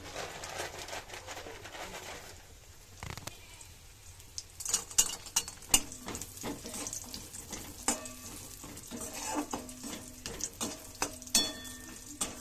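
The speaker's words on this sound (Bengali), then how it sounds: "ওই তেলেতেই এখন বড়িগুলো ভেজে নেবো।" Bori lentil dumplings fry in hot oil, a soft sizzle broken by clinks and scrapes of stirring, with sharper crackles in the second half.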